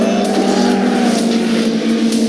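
A GT race car engine in a racing video game roars loud and sustained, holding a steady high-pitched drone with slight shifts in pitch.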